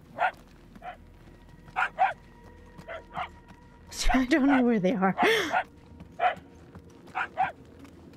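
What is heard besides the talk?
puppies barking in the video game Guardians of the Galaxy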